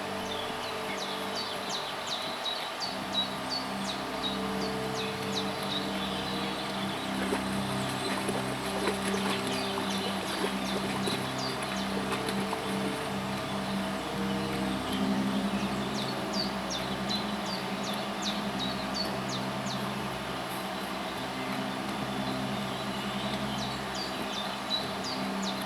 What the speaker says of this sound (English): I kind of like this little testing area in the woods.